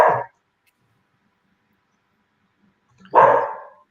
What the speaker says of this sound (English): we're having dog problems there